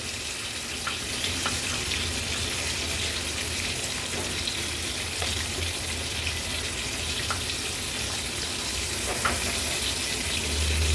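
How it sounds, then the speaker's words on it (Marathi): Pomfret fish frying in a pan on high flame, a steady broad sizzle with faint crackles that holds at an even level throughout, close and alone without talk. "हाय फ्लेमवर अगदी अर्ध्या मिनिटासाठी व्यवस्थित शेक काढून घ्यायचा आहे पापलेटांना"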